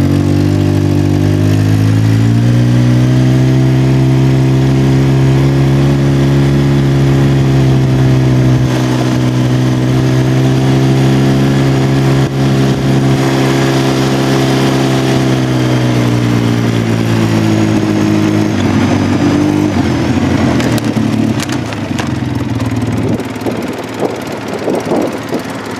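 A vehicle engine drones loud and steady on a drive up to a beaver pond, its pitch gently rising and falling, with scraping and clattering near the end.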